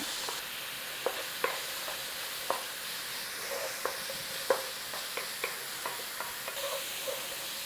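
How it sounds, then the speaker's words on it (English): Chopped onion frying in a single pan after chicken has been removed, a steady soft sizzle running throughout with a string of sharp scraping stir taps from a utensil at irregular intervals. "Nice little 3 or 4 minutes on this onion to soften it out."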